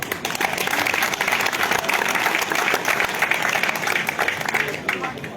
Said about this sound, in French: Il faut applaudir nos amis du PDCI.